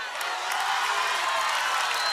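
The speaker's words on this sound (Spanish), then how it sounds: "Que se escuche ese aplauso que se merece toda esta banda, todos estos músicos" Live show audience applauding and cheering for a band, a dense steady wash of clapping with scattered whoops, loud and continuous throughout.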